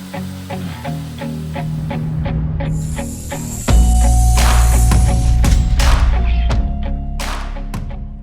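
A CNC machine carrying a 4th axis jig for cutting custom wooden dowels runs with a steady mechanical drone and a loud low rumble that swells midway. Repeated sharp clicks and hissing bursts ride on top, close and continuous.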